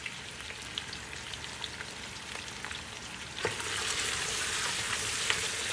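Potatoes frying in oil in a pot for lentil soup, a continuous close sizzle that swells louder and denser partway through, with no talking.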